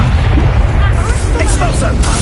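An Incendio fire spell cast in a Harry Potter video game, a loud roaring blast of fire with a booming low rumble over a short burst, with a voice calling out over it.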